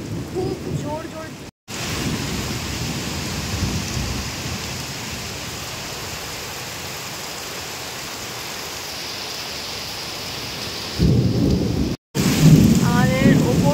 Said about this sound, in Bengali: আসলে হঠাৎ করেই বৃষ্টিটা এসে গিয়েছে।